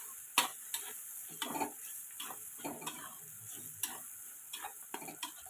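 Spoon stirring three spoons of chili powder into a home-style fish curry with onion, green chili, salt and turmeric, a series of soft scraping clinks and light taps against the pot with faint sizzle beneath, no talking.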